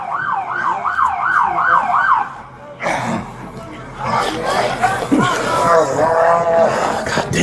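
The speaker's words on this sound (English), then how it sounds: "Turn your sirens off." A police siren wails in a steady rising-and-falling cycle for a few seconds, then cuts off as several people talk over each other.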